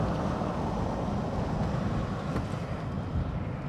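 Steady broadband wind roar inside a 1969 Cadillac cruising at about 45 mph with the windows up, a constant whooshing rush over low road rumble and no talking.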